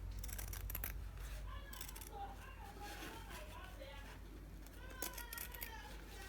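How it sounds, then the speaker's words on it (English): Scissors snip through fabric while a shawl collar is trimmed, producing repeated crisp cuts in irregular bursts, close and fairly quiet, with a voice talking over them and faint background noise. "so that you get to see exactly how I am cutting it"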